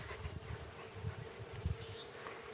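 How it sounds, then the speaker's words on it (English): Honeybees swarm and buzz around a flowering haskap (honeyberry) bush in an orchard, a steady low drone of many insects with individual bees swelling louder as they pass close by, no talking. "Just hear the bees swarming around this one. Most of these are honeybees."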